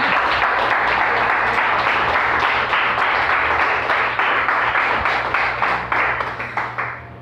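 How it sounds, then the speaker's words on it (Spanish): A church congregation breaks into a big, loud round of applause, dense clapping near and full that thins into scattered individual claps as it fades out toward the end. "Démosle, pero un aplauso bien grande"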